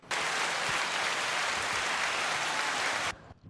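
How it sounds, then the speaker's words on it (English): Applause on a podcast, a dense, uniform burst of clapping that starts abruptly, holds loud and steady for about three seconds, then cuts off sharply. "Thank you for the enormous applause, Bushy"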